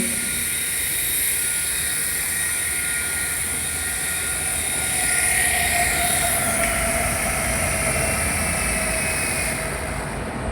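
A toy helicopter in flight gives a continuous, high-pitched motor and rotor whine, steady and fairly close, swelling slightly midway, with no speech.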